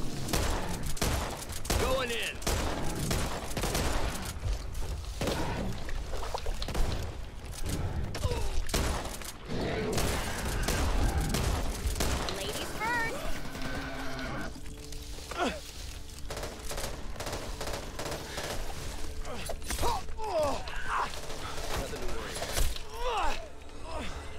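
Gunfire in the zombie shooter game Back 4 Blood on Veteran difficulty, dense bursts of rapid shots and thuds filling the first half, then scattered shots and impacts, with players talking over the action.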